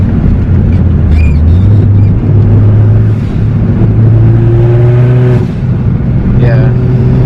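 A hybrid-turbo Ford Focus ST accelerating hard in third gear, loud in-cabin engine drone rising steadily in pitch, with a brief high whistle near the end; a voice is heard faintly in the background.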